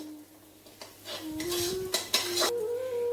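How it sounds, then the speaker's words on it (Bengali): Metal utensils scrape and clink against a pan as spice paste is stirred for a water lily and shrimp mash, several clear clanks over a steady low background. "দিয়ে ভালো করে নাড়াচাড়া করব, যতক্ষণ না পর্যন্ত তেল ছাড়ছে ততক্ষণ নাড়াচাড়া করব"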